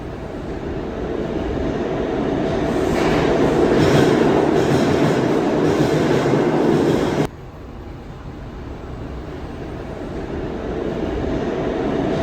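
Subway train at the Christopher Street–Stonewall station in New York City, a loud close rumble and rattle of railcars building and sustaining, then cutting to a quieter, steady station drone.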